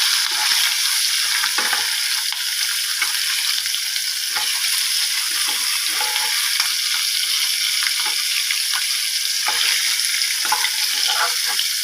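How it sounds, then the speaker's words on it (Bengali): Four prawns fry in hot oil in a pan, giving a loud, steady, continuous sizzle. Occasional scraping clicks of stirring run through it, with no voices. "চারটা চিংড়ি মাছ একটু ভেজে নিলাম।"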